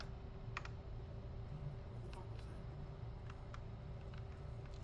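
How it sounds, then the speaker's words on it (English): Keyboard keys clacking in quick irregular bursts as a terminal is hacked in Fallout 4, set against a steady low ambient game hum. "Need to use the keyboard to access a terminal."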